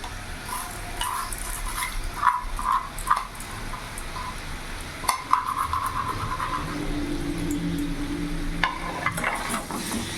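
Sona moong dal mixed with potato and papaya is stirred and fried in a pan, giving a continuous soft sizzle with repeated scraping of a spatula against the metal and occasional sharper clinks.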